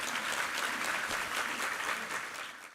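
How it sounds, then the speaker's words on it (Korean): A church congregation claps together at a Sunday service, a brief dense burst of applause that holds evenly and then tapers at the end. "우리 하나님께 감사와 영광의 박수 올려드리겠습니다."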